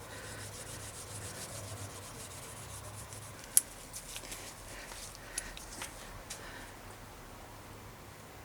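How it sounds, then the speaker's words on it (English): Rust being scrubbed off a budget bike during a cheap build, a steady soft rubbing and sanding texture with a few sharper scraping clicks, close and fairly quiet, no talking. "Just remove some of these rust bits."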